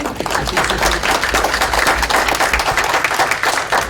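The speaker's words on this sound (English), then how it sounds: "I'd ask all of you to actually give Janet a round of applause" An audience at a tenure panel applauds with loud, dense clapping that carries on steadily throughout.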